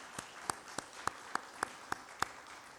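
Scattered, sparse hand claps from a small church congregation during a Sunday worship service, about eight distinct claps spaced unevenly over a few seconds, moderately faint with a quiet room behind them.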